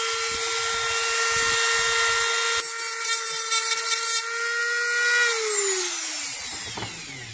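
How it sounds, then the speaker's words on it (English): A power grinder grinding down hardened glue whines steadily at high pitch, its tone dropping as it winds down near the end. "So we'll just grind it all down, and we'll just see how it looks when we're finished."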